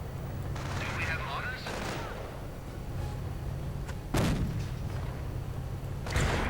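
Mortar fire and small arms in a WWII real-time strategy battle sound as sharp booms and gunfire bursts over a continuous rumbling battle din, with a voice talking throughout.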